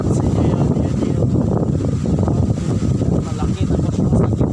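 Strong wind buffets the microphone at a lakeside viewpoint in Talisay, Batangas, producing loud, continuous rumbling gusts while a person speaks over it.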